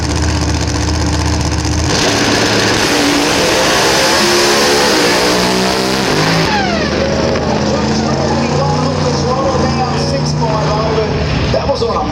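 A supercharged drag racing car revs hard at a drag strip meet in Willowbank, Queensland, with its blower lifting in a backfire pop. The loud engine roar rises and drops over a steady crowd din, while a commentator talks throughout.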